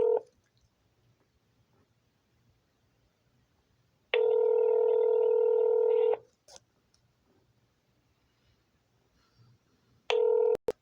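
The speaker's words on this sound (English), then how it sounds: "It's been ringing a while." Two long electronic ringback tones, the second cut off at the end, sound clearly against near silence, spaced several seconds apart.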